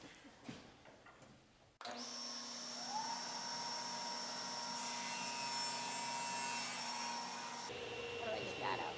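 A saw cuts wooden boards held tight against the fence, its steady, loud whine starting abruptly after a moment of quieter shop noise and running unbroken to the end.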